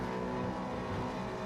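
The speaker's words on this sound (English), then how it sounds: "We must have some pit starters. Engines are revving." V8 Supercar engines revving together at a race start at Thruxton in the iRacing game, a dense, steady roar of several cars held at high revs with no voices.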